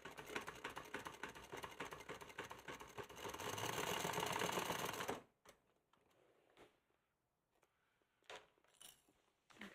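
A sewing machine stitching off the edge of fabric, a rapid, even mechanical chatter running steadily for about five seconds, then stopping, followed by scattered handling clicks and rustles.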